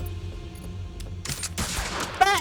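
Gunfire in the tactical video game Reverse Collapse: Codename Bakery, a dense crackling burst of shots that starts partway through after quieter game ambience and ends with a sharp report.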